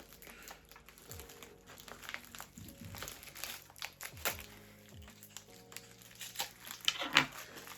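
Packaging crinkles and rustles in irregular bursts as a lost-parcel box is opened during an unboxing, close and moderately loud, with occasional handling knocks.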